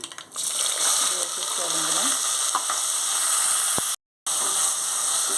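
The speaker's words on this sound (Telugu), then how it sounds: "ఈ ఆనియన్స్ బాగా వేగాలి" Onion paste frying in hot oil with mustard seeds and cumin, a steady close sizzle and hiss that runs throughout, broken by a brief silent gap near the end.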